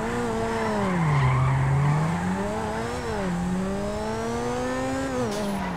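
Supercars racing in GTA 5, engines droning and revving with tires squealing in long, wavering skids that rise and fall, loud and continuous without any talk.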